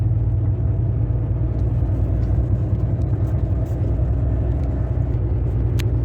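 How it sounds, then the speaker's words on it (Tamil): A tipper truck drives along a road, giving a steady, loud low engine rumble that holds throughout with no pauses or talk. "ஒரு டிப்பர் போய்கிட்டு இருக்கு"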